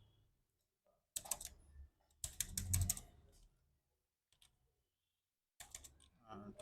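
Computer keyboard typing in short bursts of quick, crisp clicks separated by quiet pauses, fairly close, with a faint voice.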